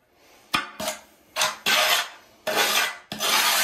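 A steel trowel spreading mortar onto the back of a 12 by 24 inch floor tile, six rough scraping strokes of rising length, close and loud, with short pauses between them and no talk.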